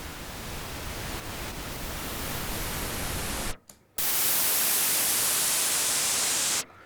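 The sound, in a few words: pink noise from 1973 Moog Model D Minimoog synthesizer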